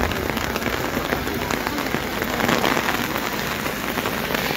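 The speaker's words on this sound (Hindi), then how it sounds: "बहुत तेज़ बारिश जो है अब शुरू हो रही है" Heavy rain pours down steadily in Shimla, a dense close hiss of drops hitting surfaces that holds at a constant loud level throughout, with no voices.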